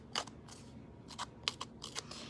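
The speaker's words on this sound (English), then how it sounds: "I'm going to open my scissors and take my scissor blade and just kind of rough up that edge" An open scissor blade scrapes along a cardstock edge to rough it up for a craft project, making several short, dry scratchy strokes close by at an irregular pace, with no talking.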